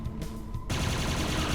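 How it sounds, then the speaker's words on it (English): Laser cannon firing in Quake: Scourge of Armagon, a sudden loud burst of energy weapon fire that kicks in after a quieter lead-in and holds as a sustained dense blast. "I'm going to use a laser cannon because I feel like it."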